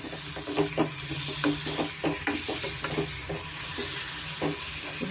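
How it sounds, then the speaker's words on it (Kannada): Large tomatoes go into a frying raw-peanut curry and are stirred through, a constant hiss of sizzling oil broken by rhythmic spoon scrapes against the pan, fairly loud and close with no speech. "ಇವಾಗ ನಾನು ಟೊಮೆಟೊ ಸೇರಿಸ್ತಾ ಇದ್ದೀನಿ"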